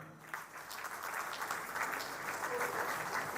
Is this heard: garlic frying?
no